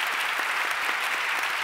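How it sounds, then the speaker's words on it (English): Steady audience applause fills a ceremony hall at a peace prize award event, a dense even wash of clapping with no voices over it. "And keep the applause going for Gelareh as she gets ready to perform for you."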